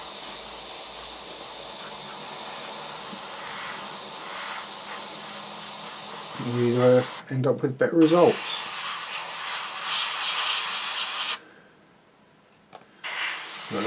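A steady airbrush hiss sprays paint on an Eduard Spitfire scale model continuously, cutting out briefly twice, while someone speaks quietly over it.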